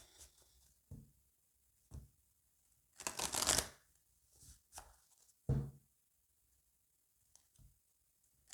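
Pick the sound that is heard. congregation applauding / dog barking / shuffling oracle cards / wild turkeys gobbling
shuffling oracle cards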